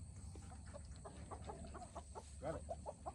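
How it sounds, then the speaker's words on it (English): Chickens cluck in short, repeated bursts at close range while their wings are being clipped, with a steady low hum running underneath. "Oh, this is my chicken."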